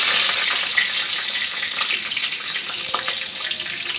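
Green chilies sizzle in hot oil as they drop into the pan, a steady bright crackle of frying that runs evenly throughout with no voices.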